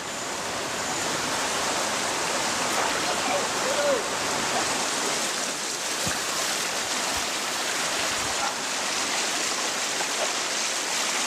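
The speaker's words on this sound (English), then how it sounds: "Martin Dorn and cable expert Tim Fogg are greeted by the heaviest rain in decades. The river is much higher than usual" Heavy rainfall pours down beside a swollen, fast-running river in jaguar country, a dense, continuous wash of hiss and rushing water with a few low knocks, no voices.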